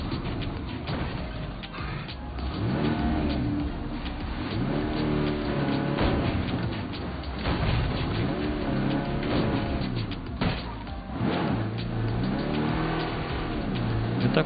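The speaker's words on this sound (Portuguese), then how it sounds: "Passou um carro bem barulhento aqui" A loud engine roars past steadily for the whole stretch, its revving rising and falling in waves, with a slightly synthetic, game-like tone.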